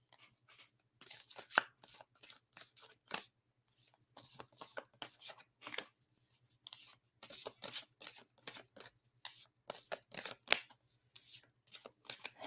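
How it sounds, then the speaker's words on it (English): Tarot cards are shuffled by hand in quick, crisp riffling bursts, separated by pauses of a second or so, close and fairly quiet over a faint low hum. "God, I cannot shuffle these cards to save my life."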